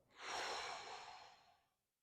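A single long, breathy exhale during a back stretch over a foam roller, swelling quickly then fading out over about two seconds, close and soft with no talking.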